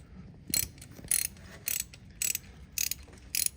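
A ratchet clicks in six short, evenly spaced bursts while tightening a rocker arm nut on a Camaro engine, each burst a quick run of metallic pawl clicks, close and fairly quiet.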